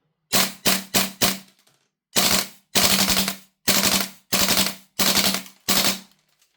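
Marksman IX airsoft gun firing on full auto, a loud close string of short, rapid bursts: four quick ones, a gap, then five longer sustained volleys with brief pauses between.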